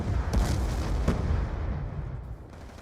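Loud bursts and booms from a Black Ops 2 match, a frag grenade blast and heavy gunfire cracking out twice in quick succession over a dense, rumbling battle din.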